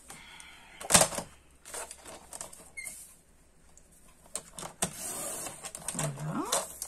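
Paper being cut for a scrapbook album page: a few sharp snips and sliding rustles, close and fairly quiet, with a short pause between bursts.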